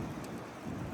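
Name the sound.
thunderstorm with rain and thunder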